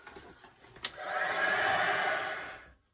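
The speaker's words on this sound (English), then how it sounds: "we can get the heat gun on it and get it dry in just a few moments" A heat gun blows a steady loud whoosh across a freshly painted craft page for a couple of seconds, starting after a small click and ending abruptly when switched off.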